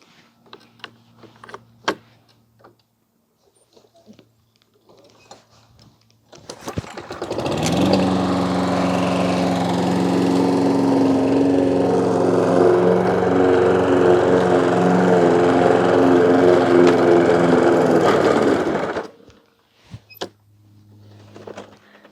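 A lawn mower engine starts up and runs loudly and steadily in tall, thick grass for about ten seconds, then stalls abruptly, with quieter rustling and clatter before and after.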